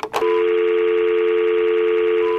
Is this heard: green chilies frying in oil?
no